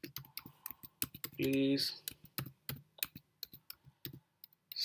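Computer keyboard typing as a message is entered: a quick run of sharp, close key clicks in uneven bursts, with a voice speaking briefly partway through.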